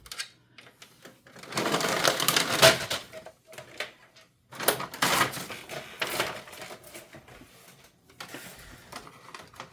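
A printer whirs and clatters in bursts, feeding paper from its second tray with mechanical noises starting and stopping with short quiet gaps between, close by, sounding irregular.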